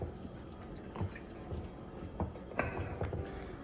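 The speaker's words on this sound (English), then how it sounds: "so I'm stirring it with a ladle." A ladle stirs fermented injera batter in a bowl, giving soft wet sloshes and small drippy clicks at irregular intervals, quiet and close with no speech.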